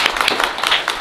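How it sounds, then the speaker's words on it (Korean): A debate audience for Seoul education superintendent candidates applauds with a brief burst of dense, close clapping. "크게 한번 우선 박수 한번 쳐주시죠"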